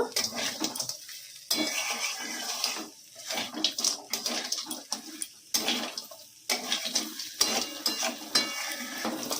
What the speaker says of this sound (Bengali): এবারে এর মধ্যে কাঁকড়াটা দিয়ে দেব দিয়ে এই মশলার সঙ্গে একটু নেড়ে নেব